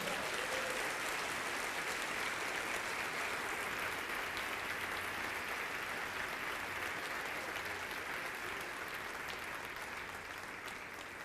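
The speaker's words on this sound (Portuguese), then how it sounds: "Você pode aplaudir o nome do Altíssimo?" Congregation applause at a Brazilian evangelical church service fills the space with steady, dense clapping from a large crowd, sustained evenly throughout without pause.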